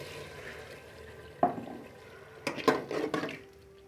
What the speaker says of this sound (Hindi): अब हम इसमें 1 गिलास पानी डालेंगे।